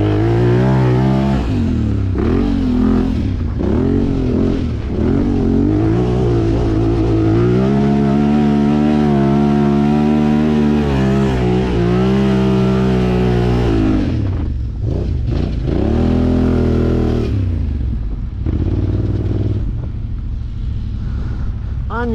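A Chinese-made quad bike's small engine revs loudly and steadily at Biały Bór, its pitch climbing and dipping through repeated throttle pulls with no talk over it.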